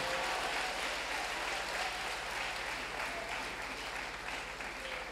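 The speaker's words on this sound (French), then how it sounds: "On acclame Jésus ce matin." Church congregation applauding together, a dense, steady wash of clapping from many hands that fades slightly toward the end.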